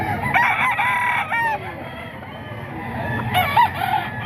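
Boston Roundhead gamefowl at a market crow nearby, two loud crowing calls with clucking between them and faint background voices.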